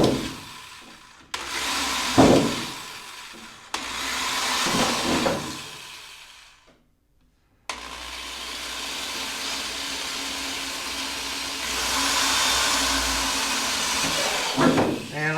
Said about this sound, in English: I'm going to just put a couple small holes on my marks.